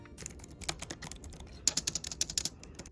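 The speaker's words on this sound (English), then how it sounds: "What I really like about it is the fact that the typing is pretty quiet." Soft, quiet keyboard typing, a run of light key taps in an irregular rhythm, picking up into a quicker burst midway.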